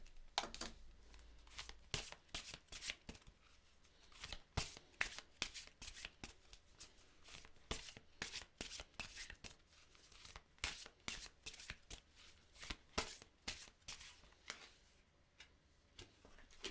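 Oracle cards are shuffled by hand in repeated quick riffling bursts, a close, crisp papery flutter that pulses irregularly throughout with no talking.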